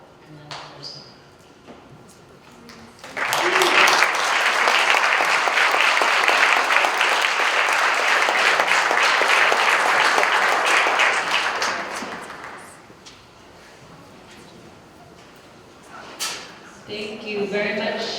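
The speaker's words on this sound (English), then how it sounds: "if everybody can give Mandy one more round of applause" Sustained applause from an event audience at an Indian education gathering, loud and dense for about nine seconds before tapering off, with quieter room sounds and talk on either side.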